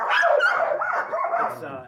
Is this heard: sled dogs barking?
yes